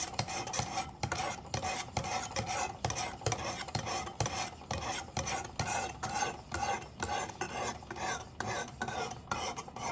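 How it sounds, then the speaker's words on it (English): A knife is sharpened at 15 degrees on a Work Sharp Precision Adjust sharpener, with steady rhythmic rasping strokes back and forth. The strokes are close and fairly quiet, repeating evenly with no voices. "I'm sharpening this at 15 degrees"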